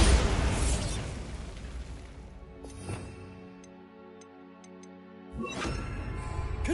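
A Bombarda blasting spell goes off in Hogwarts Legacy with a loud burst, which rolls into a decaying rumble. Faint ticking chimes follow, and then a second dense burst.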